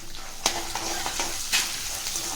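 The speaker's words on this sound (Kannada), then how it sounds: "ಎಲ್ಲ ಸ್ವಲ್ಪ ಕೆಂಪಗಾಗಬೇಕು, ಆಗೋವರೆಗೂ ಸ್ವಲ್ಪ ಫ್ರೈ ಮಾಡ್ತಾ ಇರಿ." Roasted gram and green chillies fry in hot oil for poha chivda, a steady crackling sizzle broken by a few scraping stirs of a spoon in the pan.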